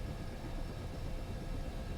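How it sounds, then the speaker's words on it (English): UH-60M Black Hawk helicopter in Aerofly FS4 with engine 1 on its starter, a steady low rumbling drone with a faint constant high whine, even and unbroken throughout. "Engine 1 starter is engaged."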